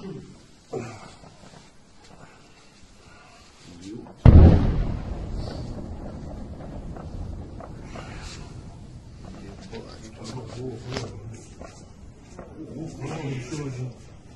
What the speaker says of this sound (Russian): Опять попали. Это что у них там взорвалось.